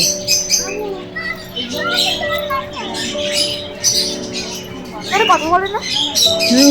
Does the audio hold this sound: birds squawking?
yes